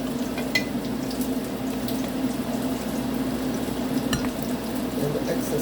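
Saltfish fritter batter frying in hot oil, a steady close sizzle and bubbling crackle with faint stirring of a spoon, no talking.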